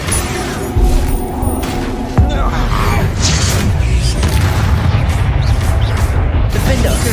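Spells go off in Hogwarts Legacy with booming bursts and crashing impacts, including a sharp hit partway through, over a busy layer of game effects while a voice speaks.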